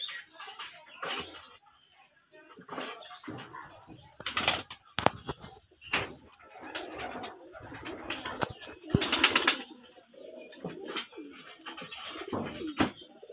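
Pigeons coo in a home setting where a cat is around them, repeated soft coos with some wing flaps, heard beneath people talking throughout.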